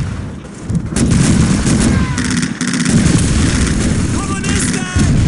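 Gunfire from Call of Duty 2: heavy shots and booming blasts come in dense, overlapping bursts, with rifle fire and battle noise that carry on through the whole clip while shouted voices rise over the din.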